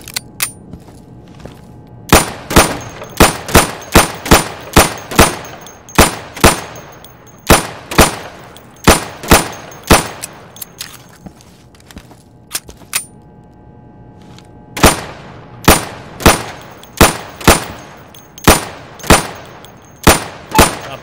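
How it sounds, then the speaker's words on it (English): Gunfire at a firing-booth target range in the video game Insurgency, with loud close shots landing in quick pairs and short bursts, separated by brief pauses and one longer gap midway. "Go over to the firing booth. Take down those targets as quickly as you can."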